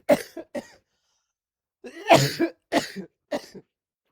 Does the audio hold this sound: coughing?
yes